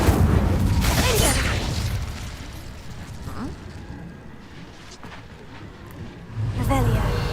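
Incendio fire spell cast in the video game Hogwarts Legacy, a loud whooshing, crackling burst of flame at the start, with game effects and music continuing after it and another fiery burst near the end.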